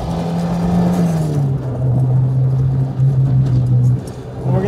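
A Toyota AE86 with a 4AGE engine and six-speed gearbox revs hard and steadily up close, its engine note dipping and climbing as it shifts through gears, with no talk over it.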